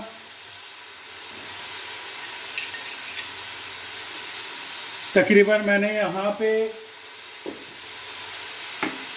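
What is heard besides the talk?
mutton frying and being stirred in a pot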